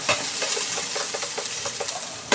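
Ginger frying in a pan sizzles and crackles steadily, with scattered sharp spatters and a louder clatter near the end, no voices.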